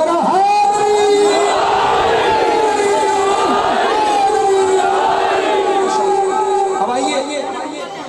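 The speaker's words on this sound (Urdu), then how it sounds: "دونوں ہاتھ بلند کر کے نعرہ لگانا پورے کلیجے کی طاقت سے نعرہ" A large crowd at a religious gathering in Faisalabad chants a slogan with raised hands, a loud, sustained roar of many voices that carries steadily and eases slightly near the end.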